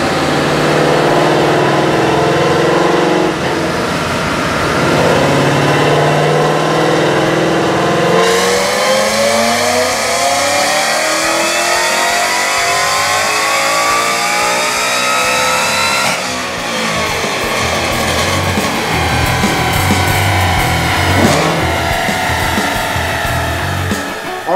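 A Ford Coyote engine with a 2.3L Whipple supercharger and twin 60mm Shelby throttle body makes a dyno pull, rising from a loud idle into a long, climbing full-throttle wail, dropping back, then revving up again.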